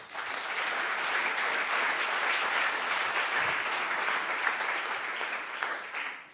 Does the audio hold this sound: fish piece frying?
no